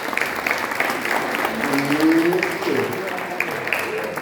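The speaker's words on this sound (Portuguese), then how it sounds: "Aplauda essas pessoas" Audience applause fills a church couples' gathering sermon, a steady wash of clapping from the crowd with a voice speaking over it throughout.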